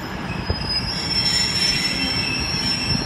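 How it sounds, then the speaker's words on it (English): Trains pull out of a platform at Exeter St David's station, wheels squealing with a high metallic whine over a steady rolling rumble, continuous and fairly close. "we'll come back in a few seconds once these trains depart"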